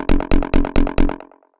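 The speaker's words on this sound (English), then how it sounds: "So the next thing we've got here is a saturator, which sounds like this." Saturated techno kick drum hitting five times in a steady rolling pattern, each thump loud and crunchy with gritty distorted overtones, the last hits decaying into a short fading tail.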